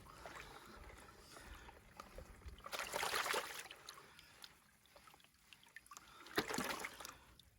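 Water and gravel washing out of a tilted gold pan, a soft sloshing trickle with two louder gushing splashes partway through, close and fairly quiet, no talking.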